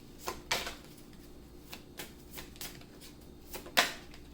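A deck of tarot cards is shuffled and drawn, with quick riffling bursts and soft flicks at an uneven pace, close and fairly quiet with no talk.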